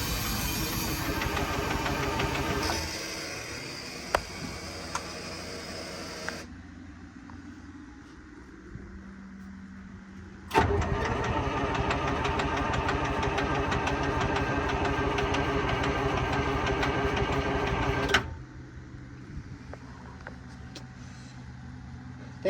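Engine of a 1973 GMC Cabover truck, starved for fuel, is cranked with a steady churning whir that runs for several seconds, drops away, then cranks again hard for about eight seconds before cutting off, loud and close.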